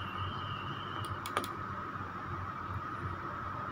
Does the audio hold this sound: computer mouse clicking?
yes